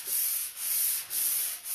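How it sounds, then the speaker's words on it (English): A 120 grit sanding sponge brushed over a painted wooden desk makes a close, steady scratchy rasp in three long rhythmic back-and-forth strokes, with no voices. "I just brush it with a sanding sponge"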